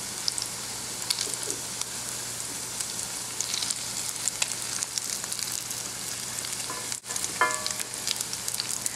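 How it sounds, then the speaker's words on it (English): Crab-less cakes with onions frying in a pan, a steady close sizzle with scattered sharp pops and splatters throughout, a brief dip near the end before the crackle resumes. "The onions in this makes it splatter or pop"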